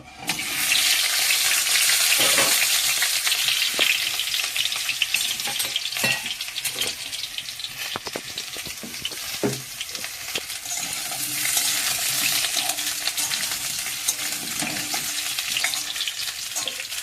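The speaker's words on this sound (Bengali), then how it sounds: "মাংসের আলুটা ভেজে নেব।" Potatoes for a goat meat curry frying in a hot pan, a loud close sizzle with scraping and clattering as they are stirred, continuous with no voices.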